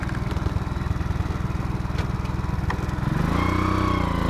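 A motorcycle engine labouring on a road in Vietnam, chugging in a rapid uneven pulse up close, then rising into a louder rev near the end.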